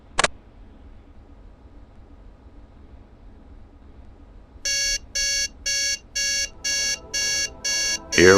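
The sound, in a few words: alarm clock beeping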